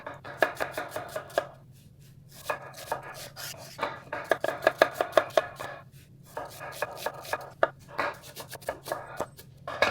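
Onions chopped with a knife on a board in quick, close, rhythmic bursts of crisp taps, pausing briefly between runs before the steady chopping resumes.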